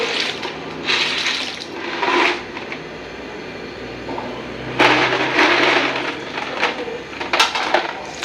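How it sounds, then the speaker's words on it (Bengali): Dry pasta tipped into a pot of boiling water seasoned with salt and oil, with bursts of bubbling, splashing and rattling at close range, separated by quieter gaps. "পাস্তা দিয়ে দিচ্ছি সিদ্ধের জন্য।"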